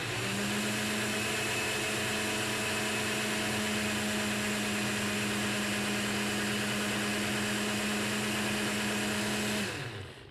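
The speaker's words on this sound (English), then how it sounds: "Turn the blender on, loud noise." A blender pulverizing a honey bee sample, running as one loud, steady, continuous whir close by for about ten seconds before cutting off abruptly.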